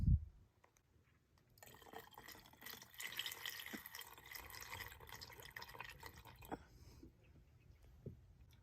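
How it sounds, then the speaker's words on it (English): Drain clog remover poured into an HVAC drain P-trap, a faint, steady liquid pour and trickle lasting several seconds, with a few soft drips and knocks. "put the drain clog removal in it, so that whatever the grease has accumulated in this P trap would get dissolved"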